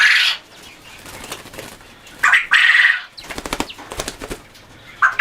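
Male Coturnix quail flapping its wings while held in hand on a quail farm, several loud close bursts of rapid whirring wingbeats separated by quieter rustling, no talk.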